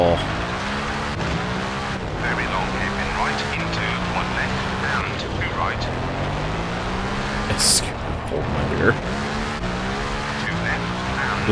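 Rally cars race flat out on a gravel stage of the Rally of Turkey in the WRC 4 video game, with steady engine roar, tyre skids and a brief sharp impact, playing continuously under a voice talking throughout.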